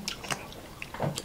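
Crunchy fried food such as pork lechon skin or fried chicken is bitten and chewed up close at a family mukbang. A few crisp, quiet crackles and crunches land irregularly over about a second.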